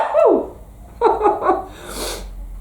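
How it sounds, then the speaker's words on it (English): A person sneezes close up after soap gets up their nose: a rising, strained inhale and catching breaths, then a breathy, spraying release, loud and near. "I'm going to sneeze."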